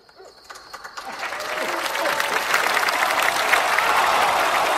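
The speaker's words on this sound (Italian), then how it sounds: "il pubblico stremato applaude nella speranza che l'imbarazzo abbandoni l'area assieme al trio" An audience at a holiday village show breaks into applause that starts sparse and quickly swells into dense, sustained clapping from a crowd, steady and fairly loud to the end.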